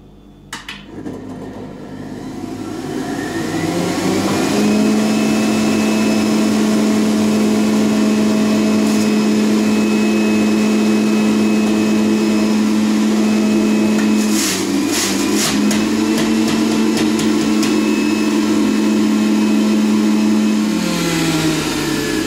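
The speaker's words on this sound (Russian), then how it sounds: "Эта соковыжималка не приспособлена для выдавливания" An electric juicer grinds beetroot and parsley, its motor spinning up after a few seconds into a loud, steady whine that holds for most of the stretch before winding down near the end.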